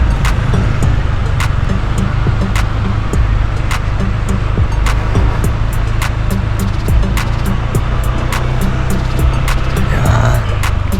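Dense road traffic rolls past continuously, a loud, steady roar of many cars and engines close by, with brief sharper passes breaking through the constant wash.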